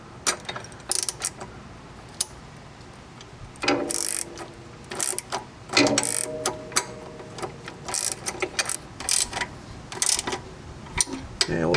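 A ratchet turns a 13 mm socket to snug up the trailer hitch bolts on a 2012 Honda Foreman ATV. It gives quick, close clicking runs in several short bursts, with brief pauses between them.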